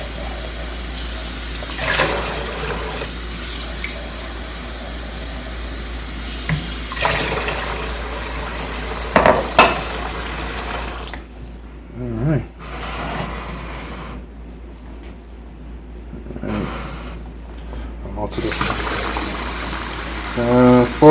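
Tap water running into a container to make turkey brine, a steady loud gush with occasional clunks, breaking into shifting splashing and fill sounds near the end.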